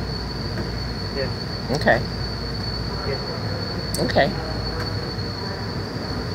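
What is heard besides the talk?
BART train running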